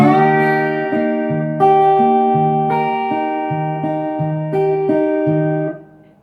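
A slide guitar plays an arpeggiated bar from a song intro, single plucked notes ringing clearly one after another in an even, moderate pattern, sustaining and overlapping before fading out at the end.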